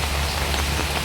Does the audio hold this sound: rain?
yes